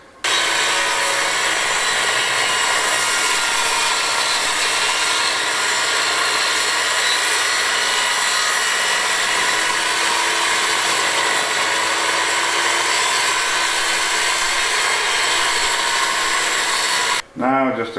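A power saw rips lengthwise through old mortise-and-tenon jointed wood at an off-grid site in southern Spain. It makes a loud, steady whine through the whole clip and cuts off abruptly near the end.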